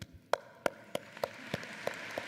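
In a hall at a university spring convocation ceremony, a few slow, evenly spaced hand claps ring out. Each crisp clap stands apart with a little room echo over a quiet background.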